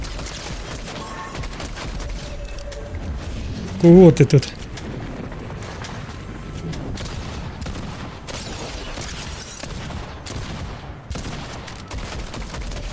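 Rapid bursts of gunfire crackle in the distance in Fortnite under ongoing talk, with a louder volley of shots standing out near the middle.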